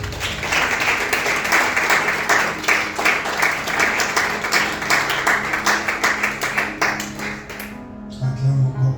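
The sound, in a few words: congregation applauding and acclaiming the Lord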